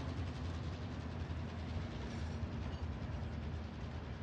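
A train rolls along in the video game Warzone, a steady low mechanical rumble with faint rhythmic clacking, continuous and fairly quiet with no talk.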